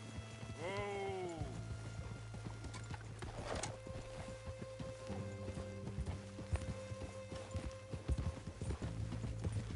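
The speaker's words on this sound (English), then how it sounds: "Mount up then, Morgan. Let's go then. Yeah. Giddy up" Horse clip-clop from Red Dead Redemption 2, a steady run of hoofbeats under game music, with a brief whinny near the start and a voice at the outset.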